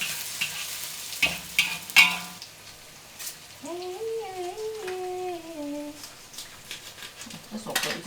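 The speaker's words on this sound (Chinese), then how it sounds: "蒜米1大匙，慢火，我要給它爆香" Chopped garlic and ginger sizzle gently in oil over low heat. A few clinks of a utensil against the pan come early, and a voice hums a tune over the frying midway.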